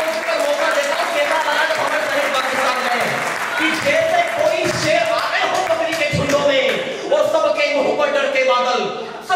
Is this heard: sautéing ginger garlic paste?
no